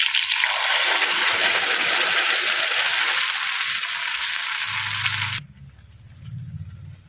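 Loud, steady hissing sizzle of fresh curry leaves dropped into hot oil, lasting several seconds before cutting off to a quieter low rumble.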